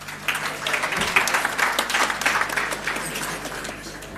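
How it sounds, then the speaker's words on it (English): A crowd applauds steadily, dense clapping filling the room for several seconds without pause. "Another round of applause."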